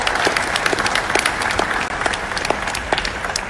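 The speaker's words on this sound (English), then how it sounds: "all of you deserve a round of applause for being here today" Applause from a crowd at an outdoor gun rally, a steady wash of many hands clapping with a few sharper nearby claps standing out, continuing throughout.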